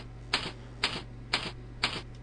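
Keys struck on a computer keyboard while entering coordinates, four crisp, evenly spaced clicks about half a second apart over a faint steady hum, close and fairly quiet.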